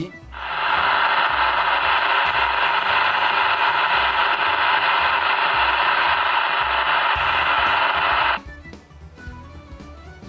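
Steady broadband hiss from a CB radio receiver with the squelch switched off, loud and continuous for about eight seconds before cutting out, leaving faint background noise.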